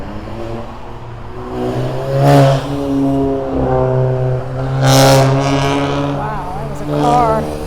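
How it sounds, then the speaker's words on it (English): A revving car passing on a town street gives off loud rising and falling engine swells, several surges in sequence, close by and prominent against faint ambient noise. "Wow, that was a car. I thought that was a motorcycle."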